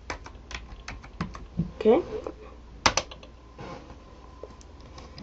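Typing on a computer keyboard while entering text on a level-pack website, with scattered clicky keystrokes in short irregular bursts under a person talking briefly.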